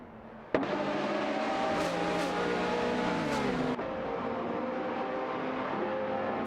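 Racing cars in a video game, a Nissan 350Z GT300 and a Ferrari F430 battling for third place, with loud, sustained engine drones shifting pitch as they accelerate, and an abrupt cut partway through into a steady engine roar.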